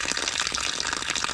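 Water gushes steadily from a DIY deep well pipe in Mindanao, a continuous loud splashing flow with no break, heard close and alone.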